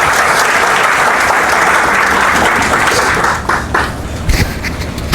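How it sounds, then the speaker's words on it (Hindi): Loud, dense applause from an audience at a nursing college event, sustained and even before thinning into scattered claps near the end. "प्लीज जोरदार तालियां सर के लिए।"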